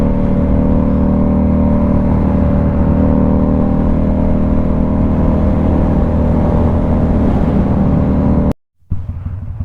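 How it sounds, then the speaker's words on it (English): A Kawasaki Vulcan cruiser motorcycle with its baffles removed roars loudly and steadily close by, its deep rumbling exhaust held high for about eight seconds before cutting off abruptly and then briefly picking back up. "like the way this bike sounds without baffles"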